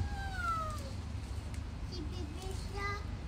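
A kitten gives a few short, high meows, quiet and close, over soft background noise.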